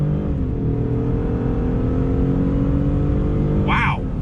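2021 Ford F-150 PowerBoost King Ranch hybrid pickup accelerating hard on throttle, a loud steady engine drone building from inside the cab, with a brief chirp near the end.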